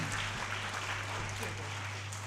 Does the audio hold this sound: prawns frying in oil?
no